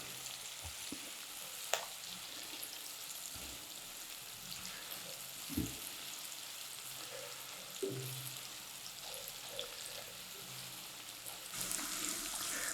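Onions sauté quietly in a pan for brinjal curry, a soft continuous sizzle with occasional clinks and stirring knocks, fairly faint and close.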